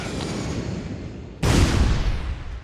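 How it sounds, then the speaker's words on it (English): A shotgun fired in the video game Shellshock Live: one loud, abrupt blast halfway through, followed by a broad, slowly fading roar after a stretch of hissing background. "Shotgun."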